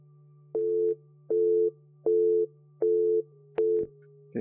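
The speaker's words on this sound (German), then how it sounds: "Okay, wir haben ein Telefon." Telephone busy signal in a horror video game: five evenly spaced tone bursts of about half a second, repeating at a steady rhythm over a constant low hum, clear and close, with no talk.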